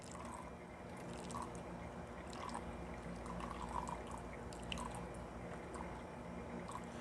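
Hot water poured gently and steadily over V60 pour-over coffee, a soft continuous trickle that stays quiet and even for several seconds with no voices.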